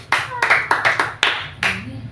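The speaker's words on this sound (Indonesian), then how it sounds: "Tepuk tangan" A small audience claps hands in a few separate loud bursts, each quickly fading, with voices speaking over the claps.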